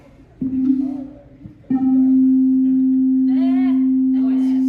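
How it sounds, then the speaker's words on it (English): A pure, steady synthesizer sine wave tone comes in after a brief earlier burst and holds evenly, with voices talking briefly over it. "so we have the sine wave"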